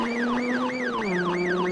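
A wailing electronic car siren in the video game BeamNG.drive, on a VAZ-2101 Kopeyka, sweeps up and down in steady repeated cycles over a low engine hum, loud and close, with no voices.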